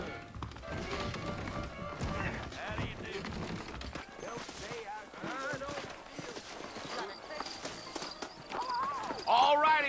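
Horses gallop with steady clip-clop hoofbeats in the Western video game Red Dead Redemption, running under game music and character dialogue, with a brief whinny near the end.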